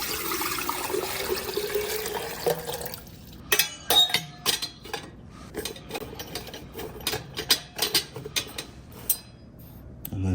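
Water is poured into an old-style enamel coffee percolator, a sloshing, trickling stream that gives way to clanks and clicks of the metal pot and lid being handled, close by.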